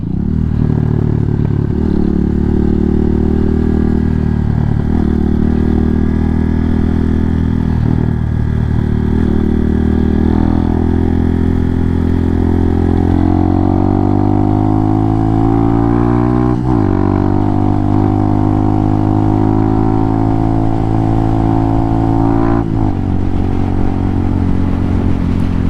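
A Hawk 250 motorcycle from JFG on the road, its engine droning loud and close with rising and falling revs, throttle blips and occasional exhaust pops over steady wind roar.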